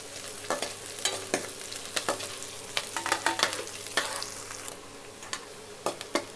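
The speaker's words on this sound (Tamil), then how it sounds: "வெங்காயம் நல்லா பொன்னிறமாக செவந்து வரட்டும்." Onions frying in oil with cinnamon and cloves for a biryani-style thalicha gravy, a steady low sizzle broken by repeated sharp scrapes and clicks of a spoon stirring the pan, close and fairly loud, no talking.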